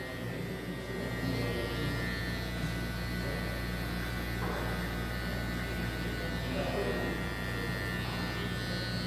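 An electric hair clipper buzzes steadily while trimming a fade at a barbershop, a constant close mechanical drone with slight shifts as the blade moves.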